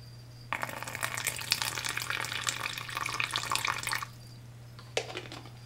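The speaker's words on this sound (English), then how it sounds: "Get some water in here." Water is poured into a tarantula enclosure, a close splashing trickle lasting a few seconds before stopping, followed by a brief final splash, over a steady low electrical hum.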